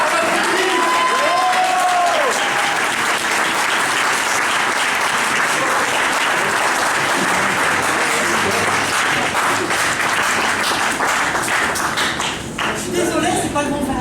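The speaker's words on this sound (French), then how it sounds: "on va applaudir." Audience applause for a first prize at the Parpaings d'Or 2013 ceremony, loud, dense and sustained for the whole stretch with a slight dip near the end, while voices and a whistle-like cry rise through the clapping.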